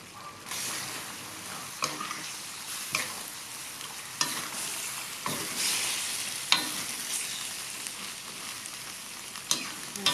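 Spicy pork belly with long beans, curry paste and kaffir lime leaves, stir-fried in a pan, giving a steady close sizzle broken by frequent scraping stirs, with no talking.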